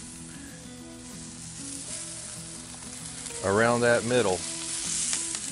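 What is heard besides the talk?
broccoli and white onions sizzling in a Lodge cast iron pan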